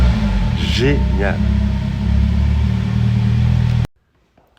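A Morgan Plus 4 with a 2.0 GDi engine starts at the press of a button, settling into a steady low rumble under a brief spoken remark before cutting off abruptly.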